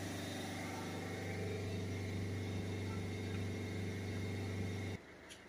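A Volvo C30 1.6 HDi diesel with a blocked particle filter held at a steady rev-limited speed around 3000 rpm, a loud continuous drone that drops abruptly near the end as the throttle is released.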